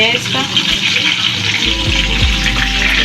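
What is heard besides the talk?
beef kebabs frying in a pan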